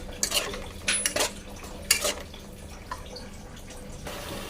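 A spoon clinks and scrapes against a pan as spice masala is stirred with four spoons of sour yogurt while cooking a prawn curry with kasuri methi, giving several short metallic knocks over a quiet kitchen background.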